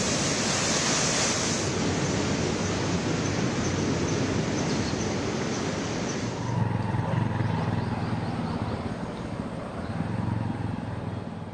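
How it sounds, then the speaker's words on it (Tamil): Heavy rainwater floods and rushes along roads during a downpour, a loud, steady broadband wash that holds constant throughout with no voices. "சாலையில் பெருக்கெடுத்து ஓடும் மழைநீரால் வாகனங்கள் நீந்திச் செல்ல வேண்டிய நிலை ஏற்பட்டுள்ளது."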